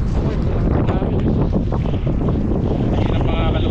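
Strong wind blows during a fishing trip, a constant heavy roar battering the microphone with a low rumble and possible water noise beneath.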